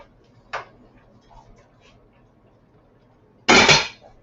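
Two sharp metallic clinks of a spoon against a pot while stirring collard greens, a light tap first and a louder scraping clank about three seconds later, close and otherwise quiet.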